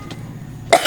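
A single sharp, close cough bursts out at the end of a short stretch of quiet room tone, from someone suffering a cough and cold.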